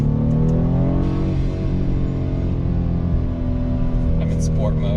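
A BMW 328i fitted with a 335i exhaust conversion drones in sport mode with active sound design on, a steady low engine tone with harmonics holding and shifting slightly as revs change, heard close from inside the car.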